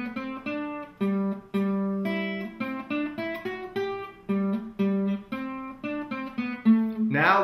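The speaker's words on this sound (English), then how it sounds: "so far we have the melody for Bach's Minuet in G" Bach's Minuet in G played as a single-line melody on guitar, a steady run of plucked notes with a clear even rhythm, near and moderately soft, with no talking.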